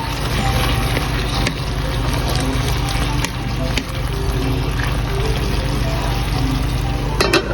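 Chicken, onion and broccoli sizzle and crackle steadily as they are stirred in a frying pan, a constant close, fairly loud hiss with faint scraping throughout.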